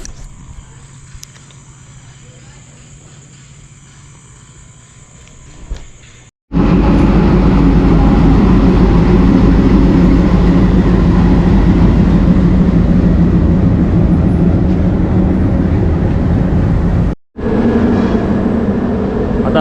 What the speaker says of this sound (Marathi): आता आपली ट्रेन बघा, ही ट्रेन आहे.